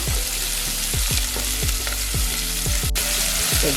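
Chopped onion and curry leaves frying in hot peanut oil, a steady loud sizzle with regular clicking stirs of a spoon against the pan, and no talking.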